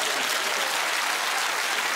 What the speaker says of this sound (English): you got a round of applause out of it.